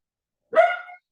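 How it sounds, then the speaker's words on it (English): A single dog bark, short and fairly loud, standing alone against silence in the background of a room. "I apologize for the dog in the background"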